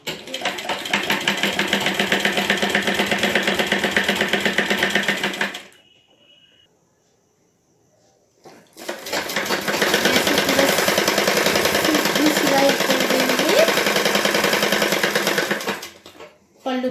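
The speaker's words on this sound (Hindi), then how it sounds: "हाफ इंच या क्वार्टर इंच ऐसा फोल्ड करके पूरी साड़ी में पल्लू तक का हम आपको सिल के बताते हैं।" A sewing machine stitching along the folded edge of a saree, loud and close, running steadily in two long bursts separated by a few seconds of near silence.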